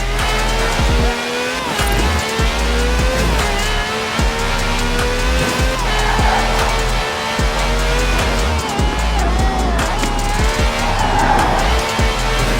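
A V12 car with over 750 horsepower races hard in the Forza Horizon 4 video game, its engine loud and rising and falling through the gears, with repeated tire squeals and skids and no talking.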